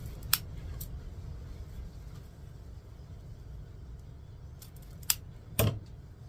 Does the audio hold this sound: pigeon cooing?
no